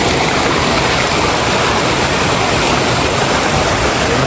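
Water pours steadily over a waterfall and rushes along a stream at Amboori, a dense, unbroken roar close by that holds at one level throughout, with no talking.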